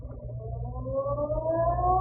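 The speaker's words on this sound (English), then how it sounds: "just as the ferry building siren was announcing 8 o'clock to downtown San Francisco" The Ferry Building siren in downtown San Francisco sounds at eight o'clock as a radio drama effect, a single rising wail that swells steadily and holds, heard alone.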